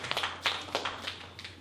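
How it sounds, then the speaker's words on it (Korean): A church congregation claps in thanks, a short patter of scattered, uneven applause heard faintly over a steady low hum. "하나님께 감사의 박수 올려드리겠습니다"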